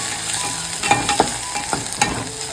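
Onion, tomato, red chilli powder and turmeric frying in a pan while being stirred, a continuous close sizzle broken by several distinct scraping strokes of a spoon, with no talking.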